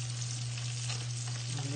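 Papaya pieces frying in oil in a pan, a steady, close crackling sizzle with a low hum underneath, no voices.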